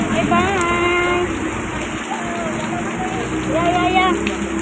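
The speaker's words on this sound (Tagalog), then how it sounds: "Grabe ang lakas ng ulan." Heavy rain pours steadily in a dense, constant hiss, loud and close, while a person talks over it at times.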